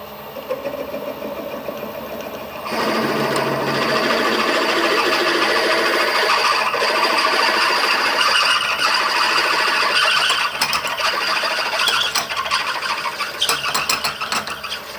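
A machine whirs up after a quiet start and drills steadily into the metal of a steam boiler safety valve, with a humming motor and intermittent clicks and rattles.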